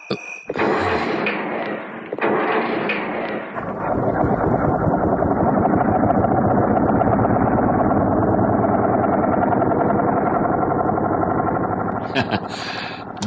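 Old bus engine rumbling after a roadside repair, starting with a few bangs and knocks, then settling into a steady loud chugging run that fades near the end.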